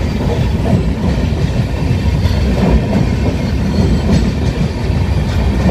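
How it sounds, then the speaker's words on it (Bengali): A train rumbles past close by, its wheels clattering steadily over the rails in a loud, continuous roar that never lets up. "ঘর থেকে রেল লাইন দেখা যায়, রেল যাচ্ছে"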